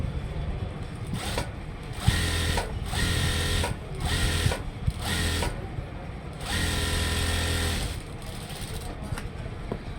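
Sewing machine stitching a folded edge on a school uniform coat collar, running in several bursts of rapid mechanical whirring separated by short pauses, with brief low talk in between.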